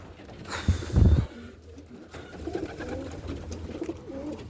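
Homing pigeons newly bought for breeding coo from their loft, soft throaty calls with a louder burst early on, then quieter murmuring coos and faint background rustle.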